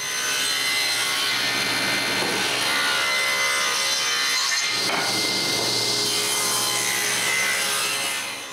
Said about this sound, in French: j'ajuste ma lame de scie pour couper les feuillures à l'arrière du cadre